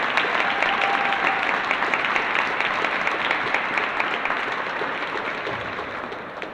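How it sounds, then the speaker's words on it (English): An audience at the KIDS COUNT awards ceremony breaks into a sustained round of applause, dense steady clapping filling the room and fading slightly toward the end. "I just want to give them a round of applause"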